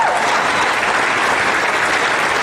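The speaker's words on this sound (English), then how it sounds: "you can clap for that." Steady, dense audience applause fills a large hall at the NASA and CSA Artemis II crew announcement at Ellington Field in Houston, loud and continuous throughout without pause.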